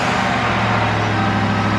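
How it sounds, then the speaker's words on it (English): Engine of a Ford Crown Victoria Police Interceptor running steadily after starting, a loud continuous low rumble with a constant drone and no voices. "The bigger question is the car going to start?"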